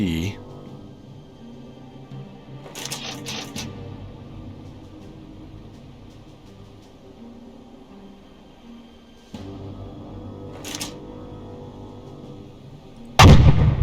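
Submarine deck gun firing armor-piercing shells in the naval game UBOAT: several sharp, loud reports come in a quick cluster, then two more single shots, with a low rumbling ambient bed throughout and a heavy blast at the end.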